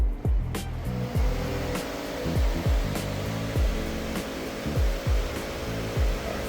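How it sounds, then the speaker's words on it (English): Solar-powered ventilation fans run in a hoop house, giving a steady broadband whir like rushing air. Low-pitched thumps recur roughly every half second beneath it. "we have these switches that will power the fans"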